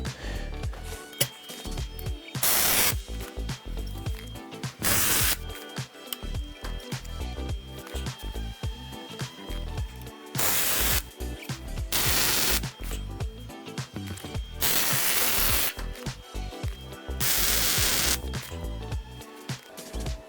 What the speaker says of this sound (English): So that's first bar tack welded in.